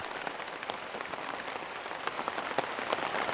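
Rain falling steadily on a banana leaf held overhead as an umbrella, a dense patter of drops with no voices.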